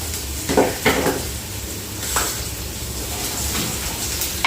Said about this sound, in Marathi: तेलामध्ये जिरं मोहरीची फोडणी टाकलेली आहे